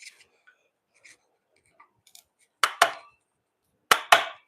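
A small mallet strikes wood in two pairs of sharp, close, resonant knocks, each pair quickly doubled, preceded by faint scattered taps and shuffling in a quiet workshop.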